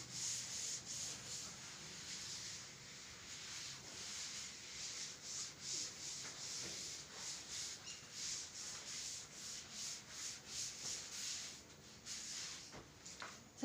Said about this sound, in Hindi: तो मैं इसको रब कर रही हूँ